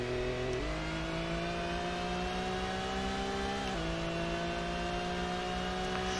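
Race car engine in Gran Turismo droning at high revs, a steady sustained whine that shifts pitch twice as gears change, with no talking.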